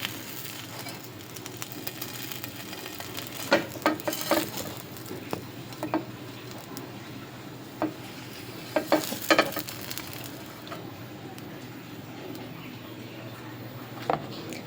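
Burger patties fry in a pan for a North Karnataka-style evening snack, a soft steady sizzle broken by sharp intermittent scrapes and clicks of a utensil against the pan.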